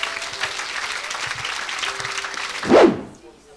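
A church congregation claps together in sustained, dense applause during a Sunday service, ending in a final loud burst before fading out.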